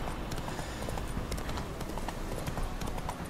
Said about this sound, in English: Y un caballo ahí random.